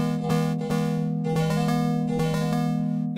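A sustained major chord in 17-tone equal temperament rings steadily, its stacked tones holding under a few soft repeated re-attacks, close and clear with no voices.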